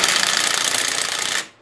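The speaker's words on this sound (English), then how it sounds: "This is the cordless impact driver." An 18-volt cordless impact driver spinning a Predator flywheel nut on a small engine, giving a steady, loud, rapid hammering buzz for over a second that stops abruptly.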